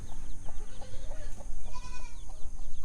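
Small chickens on a homestead clucking softly in a scatter of short, quiet calls close by, with faint chirps around them.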